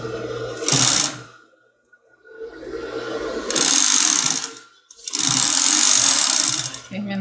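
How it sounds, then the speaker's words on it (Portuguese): A sewing machine stitches a padded bra with satin ribbon, running in three loud bursts of fast, steady whirring with short quiet gaps between them, heard up close. "E aqui eu vou costurar com o lado avesso para cima"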